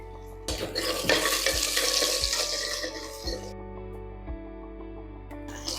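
Shallots frying in hot oil with curry leaves for an egg curry: a steady, close sizzle broken by repeated scraping stirs and light clatter of a spoon against the pan, fading toward the end.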